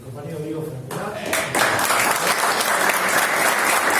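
A classroom audience at a lecture on Peronism bursts into applause after someone speaks, the clapping swelling quickly and continuing loud and dense to the end.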